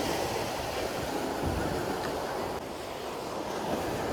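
Strong wind gusting over open sea off the Konkan coast, with surf and wave wash beneath it, sounding as a steady, loud, broadband roar that lasts the whole stretch without any speech.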